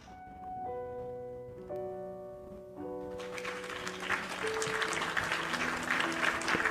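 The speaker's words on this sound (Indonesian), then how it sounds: "Suara tepuk tangan kedengeran nggak?" Applause sound effect played during a live TikTok stream, building from sparse background tones into a steady wash of clapping that grows louder and fuller over several seconds, with no talking.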